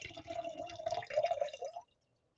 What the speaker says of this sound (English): Let me finish this pour